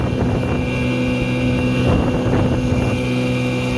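A 1954 Super Fastwin outboard motor drones steadily on a lake while a 15 horse outboard is dragged along behind, a continuous close buzzing hum with wind buffeting the microphone and no talk.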